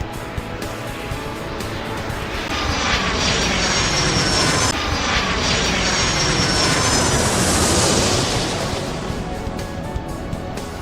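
Jet airliner engines in the Airport Madness 3 video game spool up for takeoff, a broad steady roar that swells for several seconds, peaks, then eases off slightly; no voices.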